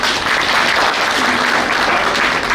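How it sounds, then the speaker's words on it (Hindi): Dense, sustained audience applause welcomes a guest at a Janjatiya Gaurav Diwas tribal pride day celebration at Kala Kendra, Jammu, loud and steady throughout with no talking. "मैं आप सबसे रिक्वेस्ट करूँगा तालियों से सर का स्वागत किया जाए।"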